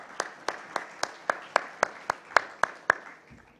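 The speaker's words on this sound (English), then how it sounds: "Please give them a round of applause, all of our speakers this morning." Slow, sparse applause at a publishers' congress: about eleven distinct claps in an even rhythm, each crisp and close, without a dense crowd sound beneath them.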